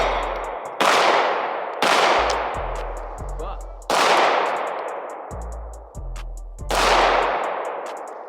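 Pistol shots from a CZ handgun at an outdoor shooting range, about five loud, separate cracks, each with a long ringing decay, spaced unevenly over several seconds.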